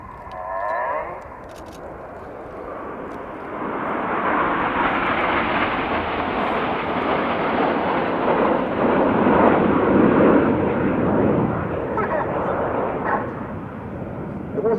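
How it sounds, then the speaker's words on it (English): A Spitfire fighter from the 1940 Royal Air Force era roars past overhead at an air display, a broad rumbling engine drone that swells to a loud peak and slowly fades, heard from the ground. "To the left, this is Spitfire."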